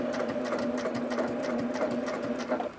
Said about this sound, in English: And then I'm stitching along the edge of this shape.